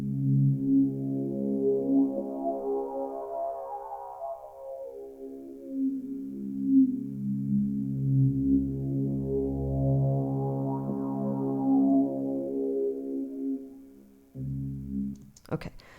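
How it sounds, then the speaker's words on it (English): A game-audio drone packed with many layered tones plays as a loop in Pro Tools, a steady sustained hum with slowly sweeping, rising and falling overtones. It runs alone with no talk and cuts off near the end. "This is a drone that has a lot of frequencies sitting in it."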